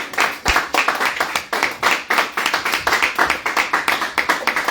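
A church congregation claps to acclaim the pastor, loud, brisk and roughly rhythmic, with many hands striking in quick bursts that hold steady throughout, close and without talk.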